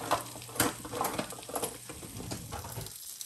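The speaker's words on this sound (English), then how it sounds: "As you can see, the sausages have started cooking." Sausages frying in a pan on a stovetop while tea brews, a steady crackling patter with a few sharper pops, moderately close and alone without talk.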